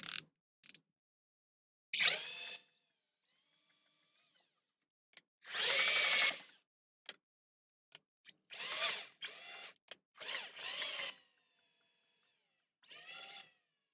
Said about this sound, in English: Put a drill on it so that you can see it actually moving.